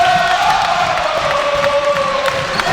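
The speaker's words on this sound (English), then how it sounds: "the crowd is really cheering for the Max" A basketball crowd cheers steadily through a college game, a continuous broad roar with whoops and shouts rising over it, while a commentator talks above the noise.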